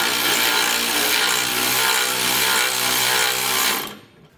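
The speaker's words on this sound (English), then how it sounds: "using a 9/16 socket, we're just gonna tighten side to side and make sure that it's evenly tightened" A power tool with a 9/16 socket runs in a steady, loud, continuous whir while tightening U-bolts on an air helper spring kit for a 2020 Ford F-series pickup, then cuts off abruptly near the end.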